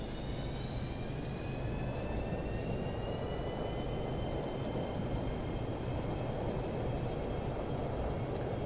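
An airliner using reverse thrust after landing in the X-Plane 11 simulator produces a loud, continuous engine roar with a rising whine, steady and dense across the whole stretch, with no talking over it.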